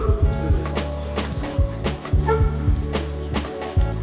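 A dog barks repeatedly in a steady, energetic rhythm, close and loud, with occasional yips between barks.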